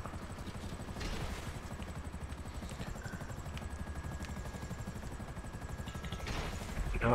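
Helicopter flying in GTA V Online, a loud continuous rotor throb with fast rhythmic chopping that swells slightly toward the end, with sporadic clattering and gunfire-like bursts mixed in.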